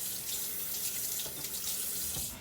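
Tap water runs steadily into a kitchen sink as a teaspoon is rinsed while homemade cream corn is being made, a continuous close hiss of flowing water with small splashing changes.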